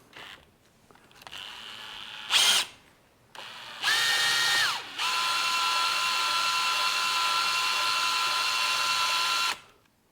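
A power drill spins a BMW E36 188mm limited-slip differential, starting with a short burst, then a rising whine that settles into a long steady high-pitched drone up close before cutting off.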